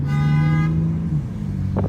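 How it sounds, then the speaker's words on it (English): A car horn blares from a BMW M3 in one steady, loud honk, close by, then cuts off. "Honk at him."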